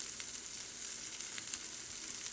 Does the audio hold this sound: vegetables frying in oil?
yes